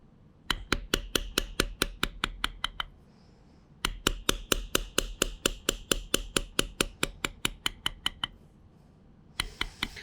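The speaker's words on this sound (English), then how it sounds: "we start light, start standing the tool up and hitting it a little heavier" A mallet taps a leather tooling stamp in quick, regular series of sharp knocks, three runs of strikes with short pauses between, close and clear with no voices, while floral tooling is beveled on a leather boot jack project box.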